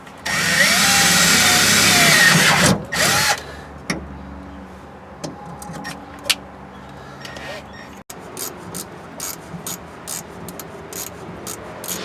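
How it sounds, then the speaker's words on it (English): Power drill running loudly and steadily for about three seconds while working on a 1967 Checker Marathon during a Vortec 4200 engine swap, then stopping, followed by quieter shop noises and scattered clicks. "keep drilling, right?"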